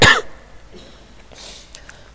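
A short, sharp cough bursts out at the start, loud and close, followed by quieter throat-clearing noises and faint rustling in an otherwise quiet room.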